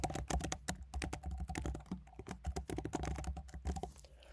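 Rapid typing on a computer keyboard to enter an email address, a close, crisp run of irregular key clicks with brief pauses, heard alone and ending in quiet.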